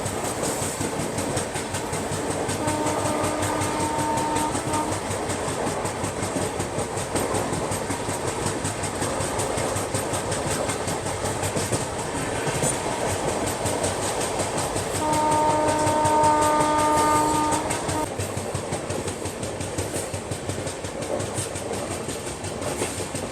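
Bandra Bhuj AC Superfast express running on rails, with a steady loud rumble and clatter of wheels throughout and a sustained horn-like tone sounding twice, briefly early on and again near the end.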